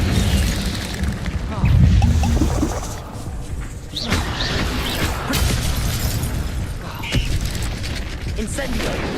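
An Incendio fire spell is cast amid busy Hogwarts Legacy video game combat, with mechanical clanks, booms and crackling bursts layered over one another. A voice talks over the action.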